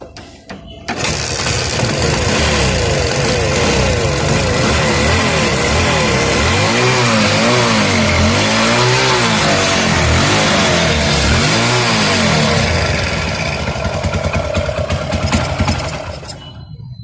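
A Hero Splendor motorcycle engine runs steadily after an oil pump replacement, starting abruptly and idling loud and close with a rough, throbbing rhythm and brief rises in revs before easing off at the end.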